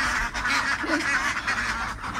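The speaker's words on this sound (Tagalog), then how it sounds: "ang ingay ng bibe" Ducks quack steadily in a noisy flock on a Philippine farm, overlapping calls close by with no talking.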